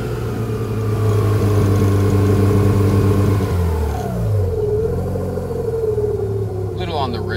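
Rotary engine of a Mazda RX7 FC (naturally aspirated) idling while warming up, a steady low droning hum with a slight pitch dip midway, continuous and close.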